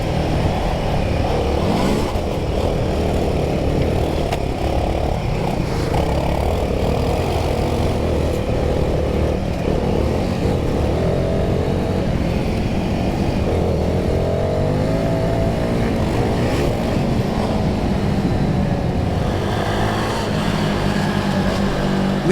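A Royal Enfield Himalayan 450 motorcycle on dual sport tyres is pushed hard through forest trail, its engine droning steadily and loudly throughout with rising and falling revs under wind and road rumble.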